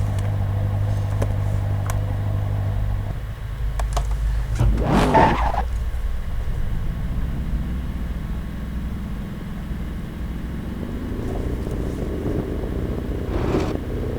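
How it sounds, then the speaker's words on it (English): The underside of a Corvette scrapes in the racing game Assetto Corsa over a steady engine drone, with two harsh gritty scrapes, the first louder and the second fainter near the end. "Scraping the underside of the Corvette."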